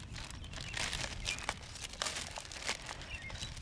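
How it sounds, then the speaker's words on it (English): A sealed plastic bag holding a livestock water sample is handled up close, giving soft, irregular crinkling and rustling bursts at a low level, with no talking. "Place the water in a sealed plastic bag."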